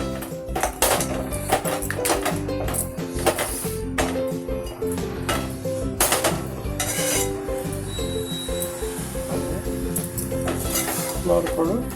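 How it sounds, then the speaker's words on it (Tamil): Spoon stirring mor kali, a thick buttermilk and flour porridge, in a metal pan after fried buttermilk chillies go in, with steady scraping and clinking against the pan over a soft sizzle, close and continuous. "கடைசியில் இந்த வறுத்த மோர் மிளகாயை போட்டு நல்லா மிக்ஸ் பண்ணி விட்டுறணும்."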